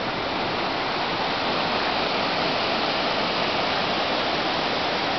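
Steady rushing of a stream flowing over rocks, a dense continuous wash of water close by with no pauses or voices.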